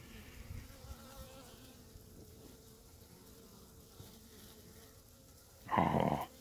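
A steady, low insect buzz of honeybees during a hive frame inspection hums throughout, then swells into a louder, close burst near the end as bees cling to a spoon.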